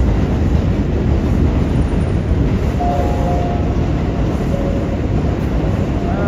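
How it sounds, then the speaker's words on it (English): A New York City subway train rumbles loudly nearby in Brooklyn, a dense continuous roar with faint squealing wheel tones rising above it. "Can hear the subway."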